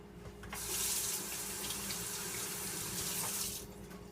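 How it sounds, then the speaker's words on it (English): Tap water runs steadily into a sink while egg is washed off hands, a close, continuous gush that swells in and tapers off near the end. "Wash the egg off my hands"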